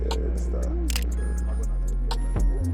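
A camera fitted with a Tamron 17-70 F2.8 lens, shooting at a slow 1/30 shutter speed outdoors at dusk in Madeira: two crisp, close shutter clicks over a low hum, with soft voices nearby.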